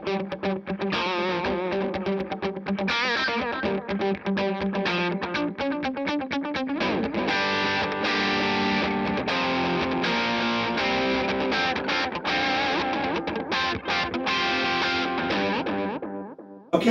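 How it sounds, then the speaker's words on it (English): Overdriven electric guitar through an Orange Thunderverb 200 into an open-back Orange 212 cabinet with an airy, Vox-like tone, played as a long run of strummed chords and sustained riffs, loud and close, ending in a short fade with no talking. "I've got the Thunderverb 200 going out into another Orange 212 cabinet,"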